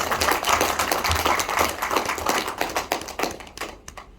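An audience at a presentation in the Hyatt Regency, Ahmedabad, claps in a dense burst of applause that stays lively, then thins into scattered claps and fades out.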